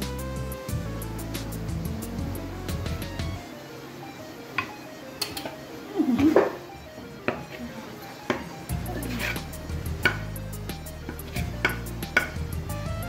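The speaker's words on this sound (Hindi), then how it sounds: "ये डिश आउट कर रही हूँ मैं इसको" A spoon scrapes thick besan barfi mixture out of a pan, making close, intermittent clinks, taps and scrapes against the metal over a low background.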